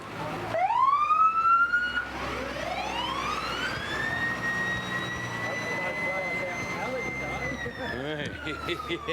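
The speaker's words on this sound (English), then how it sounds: "Where would we be today without the ambulance as well, Trav?" An ambulance siren wails at a street parade during the Loxton Mardi Gras, rising and sweeping up and down, loud and close for the whole stretch, with crowd noise underneath.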